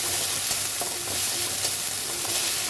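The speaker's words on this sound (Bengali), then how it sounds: "ওই তেলেই হাফ চামচ মতন আদা রসুন বাটা দিয়ে দিলাম" Ginger-garlic paste sizzles in hot oil for a prawn malai curry, a dense, continuous close crackle with light scraping of a spoon stirring through it.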